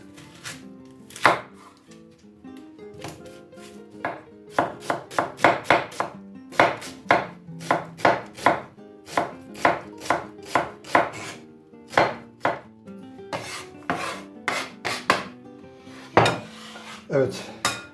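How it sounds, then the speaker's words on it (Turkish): A knife chops onions on a board in quick bursts of sharp, close thuds, with brief pauses between runs of rapid cuts. "Şimdi bu soğanları şöyle yemeklik güzel doğrayacağız."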